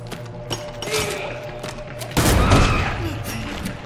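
A grenade blast and gunfire in the horror game Crow Country: scattered shots and thuds lead into a heavy, loud burst of explosion noise, with a steady hum running underneath.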